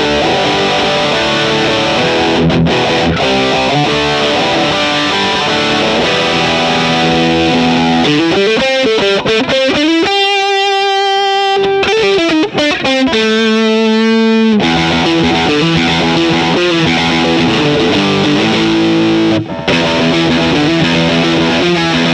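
A loud, heavily distorted Harley Benton MR Mosrite-type electric guitar plays sustained, gritty chords and riffs, with a cleaner ringing passage midway before the crunch returns.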